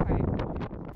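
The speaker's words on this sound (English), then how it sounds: "at that point it was so windy." Strong wind on the summit of Imbabura buffets the microphone in a steady, low roar with gusty surges, loud and close throughout.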